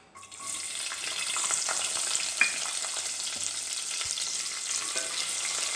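Onions frying in a pan with mustard seeds, cumin and urad dal, a steady broadband sizzle with occasional stirring clicks and one sharp pop, close and continuous with no talking.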